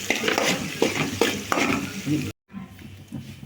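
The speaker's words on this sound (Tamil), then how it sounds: "இப்போ பாருங்கள், வெங்காயம் நல்லா வதக்கியாச்சு." Onions sauté in hot oil with turmeric and salt for a tomato gravy, sizzling loudly and close up as a spoon stirs them in several scraping strokes before a brief cut to softer frying.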